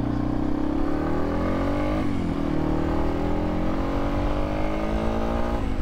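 A Yamaha XT250 dirt bike engine drones loudly and close, its pitch climbing through gears with brief drops at each shift, steady throughout with no talk.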